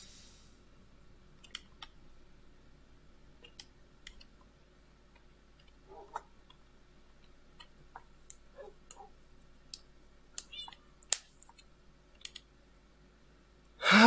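Computer keyboard and mouse clicks during a Minecraft session: scattered, quiet taps and clicks at irregular intervals with no talking.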